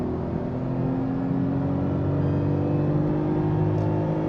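Steady engine drone and whir from a Tata Tiago 1.2L manual hatchback revving hard in second gear toward about 6,500 rpm, heard from inside the cabin, continuous and fairly loud with no talk.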